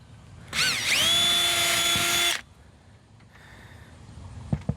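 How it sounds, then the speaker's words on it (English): A handheld power drill boring pilot holes for lag screws while mounting a bracket inside a box van conversion whines up sharply, runs at a steady high pitch for about two seconds close by, then stops, followed by faint handling clicks. "Drill pilot holes."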